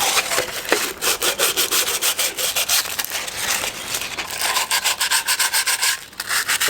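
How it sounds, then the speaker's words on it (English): Sandpaper scrubs grease off an engine internal part during a 1997 Nissan Hardbody D21 engine rebuild, a close, steady, rhythmic back-and-forth rasping that continues throughout. "Sandpaper. Just so you can get off all the grease and all that nastiness."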